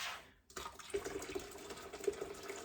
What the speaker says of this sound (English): so let's add some hot water